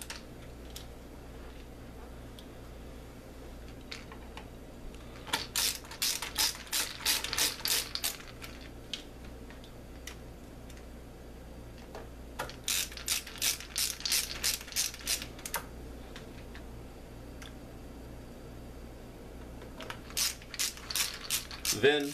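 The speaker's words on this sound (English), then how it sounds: "Go ahead and screw all the components back in." Screws being driven back into device components, heard as bursts of quick, close ratcheting clicks in several runs separated by quieter stretches over a steady low hum.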